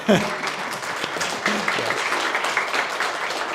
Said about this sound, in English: Adam, please give them a big applause.